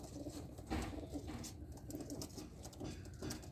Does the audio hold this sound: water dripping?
no